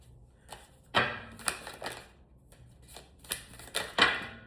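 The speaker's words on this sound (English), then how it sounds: "Let me shuffle one more time." Tarot cards being shuffled by hand, a run of crisp papery riffles and flicks in uneven bursts, close and fairly quiet with no talking.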